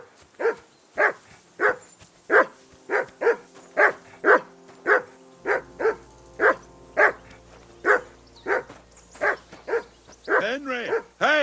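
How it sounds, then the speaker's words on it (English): A dog in a medieval village in the Kingdom Come Deliverance 2 video game barks repeatedly in a steady, evenly spaced rhythm, close and clear, ending with a few higher whining yelps as a low voice speaks underneath. "I assume you can hear that damn dog of yours barking."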